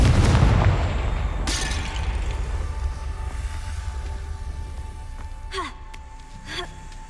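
A Confringo blasting spell in Hogwarts Legacy goes off with a heavy boom at the start, then a long rumbling decay, with faint magical whooshes later.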